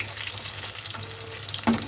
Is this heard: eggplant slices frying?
yes